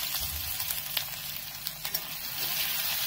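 Ginger and green chili frying in hot oil with bay leaf and dried red chili, a steady close sizzle and crackle with faint stirring taps, no talking.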